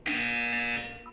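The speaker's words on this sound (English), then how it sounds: "When you hear the buzzer, look up at the ceiling." A Portal 2 test-chamber buzzer sounds once as a loud, steady electronic tone held for about three quarters of a second, then cuts off into faint room noise and a brief soft blip.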